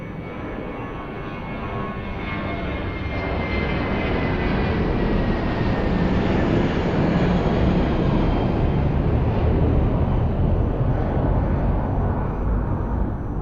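An airplane takes off from runway 02 at Lisbon Airport, its engine roar swelling from a steady rumble into a loud, sustained thrust that holds and then eases slightly as it climbs away.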